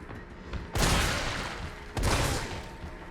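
Two heavy shotgun blasts from the video game Resident Evil 3, each a loud, broad boom followed by a long decaying rumble, about a second apart.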